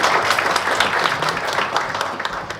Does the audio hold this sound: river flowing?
no